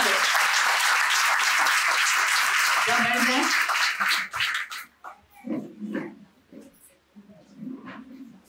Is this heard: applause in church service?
yes